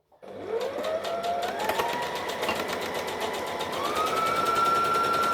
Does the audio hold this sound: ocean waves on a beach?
no